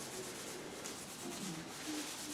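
Steady, soft abrasive rubbing as the wooden fingerboard of a Chapman Stick is scoured, giving a continuous, even scratching hiss close up with no talk.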